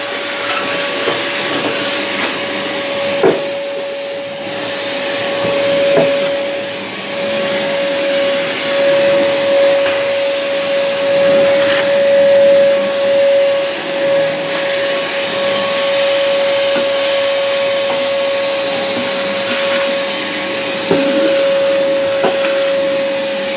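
A workshop dust collection vacuum runs steadily, a loud constant roaring hiss with a pitched motor whine, holding level throughout with a few brief knocks and clicks along the way.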